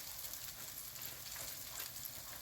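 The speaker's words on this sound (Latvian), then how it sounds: "Tad, kad mēs esam uzlikuši plācenīšus uz pannas, viņiem ir apakšai jāizcepjas." Curd cheese pancakes fry in a pan, giving a steady, dense sizzle that holds evenly throughout at moderate loudness, with no talking.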